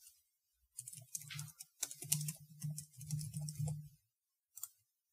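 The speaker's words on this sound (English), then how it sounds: "And you can type some text." Quiet bursts of light typing on a computer keyboard, clusters of soft rapid key clicks with short pauses between them, close and alone with no talk.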